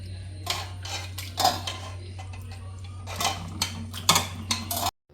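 Chicken pieces go into a pot for a roasted-coconut curry, with a close run of metallic clanks and scrapes of a utensil against the pot in irregular bursts, cutting off abruptly.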